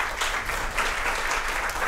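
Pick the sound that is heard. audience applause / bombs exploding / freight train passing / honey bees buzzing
audience applause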